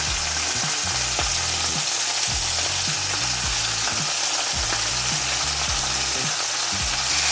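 Onion tossed into a pan of seared beef fries with a loud, constant close sizzle, while a low rhythmic hum pulses underneath.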